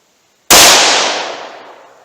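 A single sharp, loud shot from a .327 Magnum revolver firing Speer Gold Dot ammunition at a range, cracking hard and then decaying over about a second and a half with no talk.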